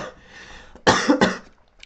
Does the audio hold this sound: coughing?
yes